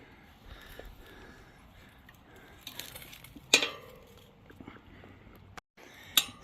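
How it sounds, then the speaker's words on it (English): Metal tire irons clink and scrape intermittently as a front tire is spooned onto the rim of an Aprilia Tuareg 660 motorcycle, with a few sharp metallic taps standing out from quiet work noise. "Let's spoon this tire on."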